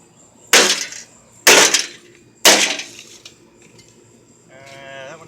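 A microwave oven being smashed to pieces, three loud, sharp crashing impacts about a second apart, each trailing off with rattling debris, followed by a faint tonal squeal near the end.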